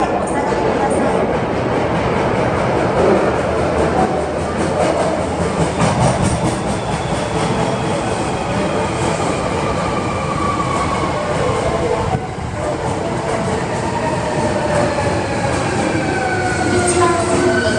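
A wrapped Nankai 1300 series local train bound for Tenkachaya pulls into Dobutsuen-mae station, a loud, continuous rumble with wheel squeal and rhythmic clatter rising and fading, while a platform announcement plays over it.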